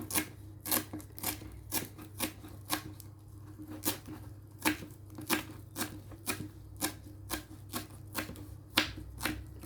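A knife chops ingredients such as spring onion and coriander on a board while pork larb is prepared, giving a steady run of about twenty crisp, close strikes over nearly ten seconds, with no talking.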